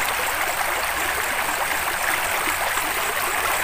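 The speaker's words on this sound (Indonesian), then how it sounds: "Dan ini sungainya besar." A large river flows with a loud, steady rushing roar along its bank, continuous and broad with no talk over it.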